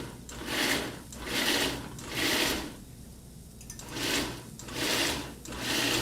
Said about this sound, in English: I'm going to put on the lid of my food processor and just give it a couple of quick pulses